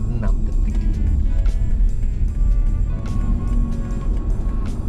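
Car accelerating hard from 0 to 100 km/h, a strong, steady engine drone with tire and road rumble from inside the cabin, loud and continuous with faint clicks and no speech.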